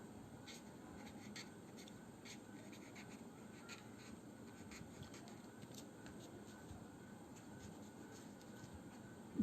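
Chalk or marker writing on a board during a geometry lesson, steady scratchy strokes close by, continuous and fairly quiet with no talking.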